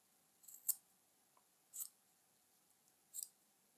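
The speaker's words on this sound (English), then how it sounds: "because I've got sharp scissors when I'm doing this final bit" Three sharp scissor snips trimming a yarn tassel, spaced about a second apart, close and crisp against a quiet background.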